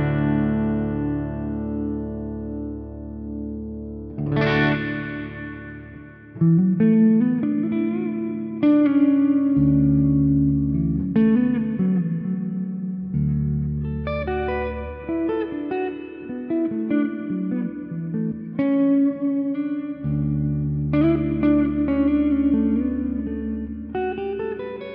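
Electric guitar notes and chords through the hall reverb setting of a Flamma FX20 effects pedal, each phrase ringing out into a lush, long wash that sustains and overlaps beneath the next notes.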